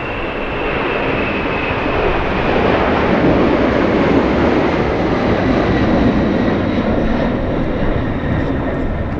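A FedEx MD-11 jet takes off on its way to Newark, a loud sustained roar of engines with broadband rumble that swells and holds steady for several seconds, with no talk over it.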